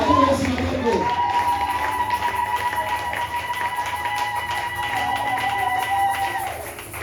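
A church congregation cheers and shouts acclaim to the Lord at a fervent worship service, a loud crowd roar that swells and carries steadily throughout, with a sustained sung or shouted tone running over the noise.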